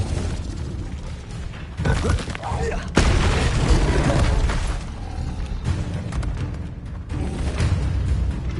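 Spell bursts and booms from a wizard duel in Hogwarts Legacy as an Expelliarmus disarming spell is cast, with a sharp crack midway over sustained rumbling battle noise and talk.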